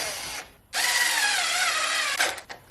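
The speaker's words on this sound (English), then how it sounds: "then we're going to follow through with a regular drill bit" A power drill with a regular bit bores a pocket hole in wood, a short burst, then a pause, then a steady high whine for about one and a half seconds before spinning down.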